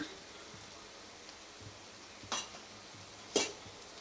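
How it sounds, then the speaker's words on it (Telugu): Potato and carrot fry in a pan over a faint sizzle, with two sharper scraping stirs of a spoon against the pan, quiet and close, with no talking. "ఒకసారి తిప్పుకుందాం. ఇంకొక 5 నిమిషాలు వేద్దాం."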